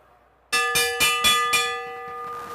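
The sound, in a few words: bell rung for the final laps of a bike race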